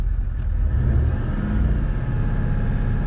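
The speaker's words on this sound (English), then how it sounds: "Just taking the engine up to about 2000 RPM" Vehicle engine held at a steady raised idle around 2000 RPM, a continuous close, even drone with no talking.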